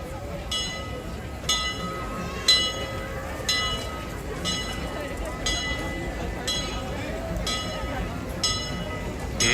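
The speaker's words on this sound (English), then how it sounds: "It's always good to see the Disneyland Railroad rolling into the station." The Disneyland Railroad train rolls slowly into the station with regular metallic clicks and clanks from the wheels repeating about once a second, over a steady crowd murmur with people talking.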